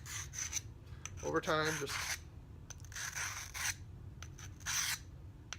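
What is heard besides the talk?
sharpening a knife blade on a sharpening stone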